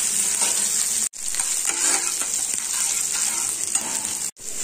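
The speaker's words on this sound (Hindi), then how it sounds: "प्याज को दो मिनट तक फ्राई करेंगे" Chopped onion frying in a pan with cumin seeds, curry leaves and green chili, a steady loud sizzle with stirring scrapes throughout and two brief dropouts, no talking.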